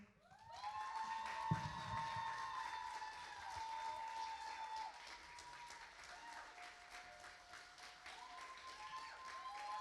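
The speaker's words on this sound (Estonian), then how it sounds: "Plaksutame, plaksutame!" An audience claps steadily after a youth music festival performance, a thick continuous patter of applause with sustained tonal notes ringing over it and a brief thump early on.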